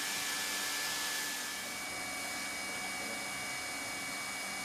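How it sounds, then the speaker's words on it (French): An automatic hot-air welding carriage runs along a floor seam, giving a steady, even blowing hiss like a hair dryer that is slightly louder at the start and then continues unchanged. "Faites glisser le chariot soudeur de manière régulière sur le joint à une vitesse d'environ 2 mètres à la minute"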